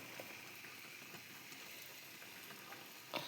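Cabbage cooking with a fish head in a pan gives a soft, steady sizzle with faint bubbling close by, plus a brief clink of a utensil near the end.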